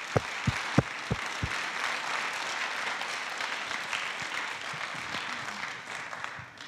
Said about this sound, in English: Please join me in a round of applause to this group of friends and all the neighbors